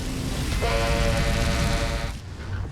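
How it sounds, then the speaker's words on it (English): A fire truck air horn sounding a continuous evacuation blast at a burning house, a loud, sustained tonal blare held for about a second and a half over rumbling background noise, then cutting off. "The fire truck's air horn signals for everyone inside the house to immediately evacuate."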